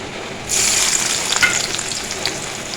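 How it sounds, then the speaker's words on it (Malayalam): Onion dropped into hot coconut oil, an abrupt loud sizzle that starts and then holds as a steady frying hiss, close and without speech. "എണ്ണ വെച്ചിട്ടുണ്ട് ഇനി ഉള്ളിട്ട് കൊടുക്കട്ടെ"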